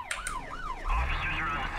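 A police car siren wails in the Thief Simulator 2 video game, rising and falling in quick yelping sweeps, loud and close, with an engine rumble joining underneath partway through.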